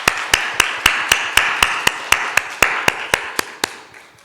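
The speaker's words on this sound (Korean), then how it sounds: "이들을 위해서 감사의 박수를 한번 하겠습니다" Church congregation clapping in thanks during a Sunday worship service, a steady run of sharp, evenly spaced claps ringing out over a light murmur and gradually fading.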